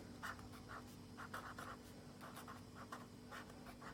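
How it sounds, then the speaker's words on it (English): Pen or pencil writing words on paper, producing soft, short scratchy strokes in an uneven rhythm over a faint steady hum, fairly quiet and close, with no talking. "So I'm going to write that underneath"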